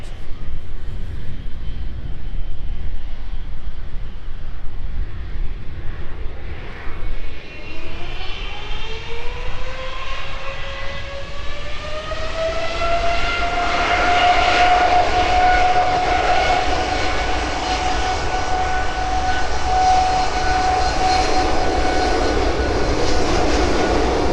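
A Boeing 747 cargo aircraft taxis out at East Midlands Airport, its engines droning loudly and steadily while a whining tone rises in pitch and then holds for the rest of the clip.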